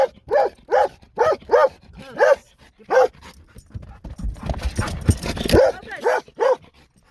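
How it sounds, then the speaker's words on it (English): A dog barks about a dozen times in a steady series, close and loud, at a mountain cattle pasture, with a stretch of rustling noise partway through. "whenever I say moo, he barks."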